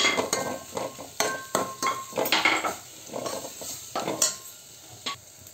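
A clam curry (kalvan) stirred and mixed in a frying pan, with repeated close scrapes and clinks of a spoon against the pan over a soft sizzle, in a steady, uneven rhythm.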